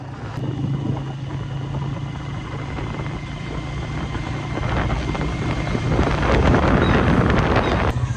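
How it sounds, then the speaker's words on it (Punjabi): Cold wind blowing outdoors in a Pakistani village, a loud continuous rushing buffet against the microphone with a low droning rumble, growing stronger toward the end, with no talk. "ਠੰਡੀ ਹਵਾ ਬਹੁਤ ਜ਼ਿਆਦਾ ਲੱਗ ਰਹੀ ਆ"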